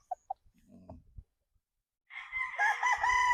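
A 22-month-old bullstag gamecock crows loudly and close in the second half, a long rising call that comes after a few soft clucks and faint thumps on a quiet game yard.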